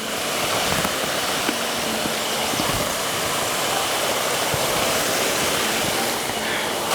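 A river rushes over rocks on the Nakasendo trail between Karuizawa and Yokokawa in Japan, a loud, steady broadband roar of flowing water filling the whole clip, with a few faint clicks of footsteps.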